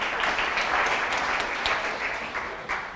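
A live audience gives a steady round of applause, dense clapping heard fairly close that holds for the full three seconds with only a slight fade toward the end.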